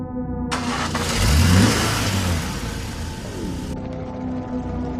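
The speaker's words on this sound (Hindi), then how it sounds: "वे हाफते हुए गाड़ी में बैठे और तेजी से वहां से निकल गए।" A cartoon car roars off quickly, with a loud engine rev sweeping up and then fading away in a horror cartoon scene on a lonely highway. A music bed plays underneath.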